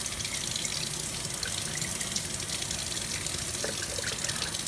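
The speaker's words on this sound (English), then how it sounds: "We're going to give our sprouts a rinse." Running tap water pours and splashes steadily into a jar of broccoli sprouts during a sink rinse, a close, continuous rushing wash with no talking.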